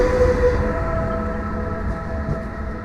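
A Gama 111EP electric locomotive pulls away with a train in Warsaw, a steady low rumble with a faint tonal whine, close and continuous, no voices.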